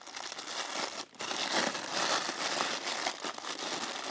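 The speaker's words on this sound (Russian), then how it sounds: "Полиэтиленовый пакетик, как вы говорите. Шуршит, как приятно." A thin polyethylene bag around a Hamilton Khaki Field Officer watch box crinkles and rustles continuously up close, a dense crackling texture with one brief pause.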